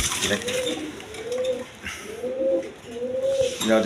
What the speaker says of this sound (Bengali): দর্শকরা এখানে এক পেয়ার বোম্বাই কবুতর